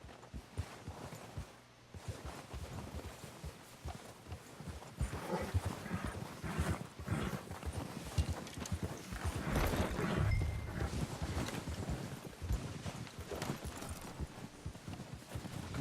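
Horse hooves clip-clop steadily in the Red Dead Redemption 2 video game, a continuous walking rhythm of soft thuds at close range with outdoor game ambience and no talk.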